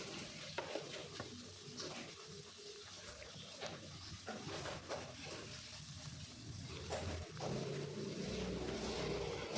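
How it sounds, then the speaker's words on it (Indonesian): Seven sliced and five chopped shallots sauté together in a pan with a quiet, steady sizzle and occasional stirring scrapes, fairly faint and close, with no talking over it. "7 siung bawang merah diiris dan 5 siung bawang merah dicincang, lalu ditumis bersama-sama sampai wangi."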